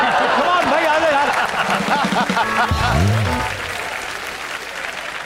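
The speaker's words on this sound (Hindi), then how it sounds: "पहले तो इनके लिए ताली बजाओ" Studio audience applauding and cheering loudly on a talk show set as guests arrive, sustained clapping with voices and laughter mixed in, tapering slightly near the end.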